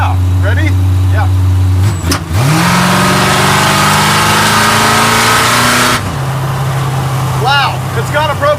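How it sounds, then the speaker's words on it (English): A 1940 Ford engine roars as it is revved hard, a sustained loud mechanical blast with sharp pops, then drops back to a rough idle. "When I matted it, it sort of backfired."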